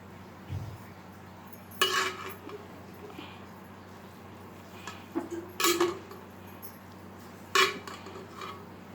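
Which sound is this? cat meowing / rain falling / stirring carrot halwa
stirring carrot halwa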